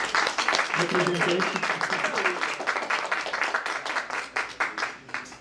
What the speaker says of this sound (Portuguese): Então eu gostaria de uma salva de palmas aqui para o Nicodemos